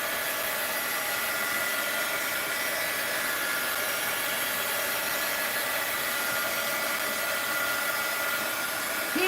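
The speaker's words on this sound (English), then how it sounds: "Heat gun alert!" A heat gun blows steadily over a damp mixed-media art journal canvas, a loud, even whooshing roar with a high whine, continuous for the whole stretch with no talking.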